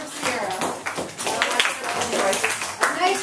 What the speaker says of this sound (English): Round of applause for Sierra.